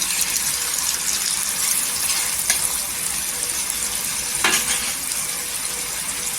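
Dry spices sizzling in a hot pan during a Malvani-style dry prawn (sukha jawla) recipe, a steady close hiss with a couple of brief stirring scrapes.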